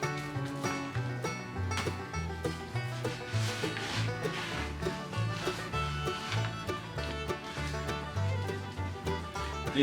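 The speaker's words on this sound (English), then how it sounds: "These little, what I call weenie rollers, approximately 1 inch diameter." A small paint roller about one inch across, with a nap, rolls paint onto a wooden bat box, making a steady series of soft rhythmic rubbing strokes up close with no talking.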